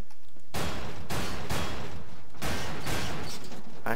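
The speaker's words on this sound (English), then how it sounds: "Let's get like a really sweet gun. Like a sweet pistol." Pistol gunfire in the video game Garry's Mod: about five loud, close shots at uneven intervals, each a sharp crack with a brief ringing decay that fills the gaps between them.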